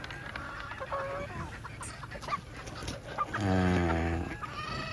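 Breeding gamefowl hens and roosters of the Golden Boy, Melsems Hutch and Tasmanian Hennie lines cluck and call in a farm pen, with scattered near clucks and a louder drawn-out call late on, over faint background noise.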